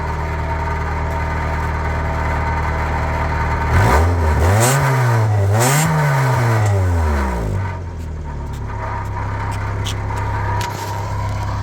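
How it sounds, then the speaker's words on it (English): A Honda wagon's D16A6 engine, on a rare all-wheel-drive hatchback with 30k miles, idles steadily, then revs up twice in quick succession and settles back to idle, close and loud. "Let's give it a rev."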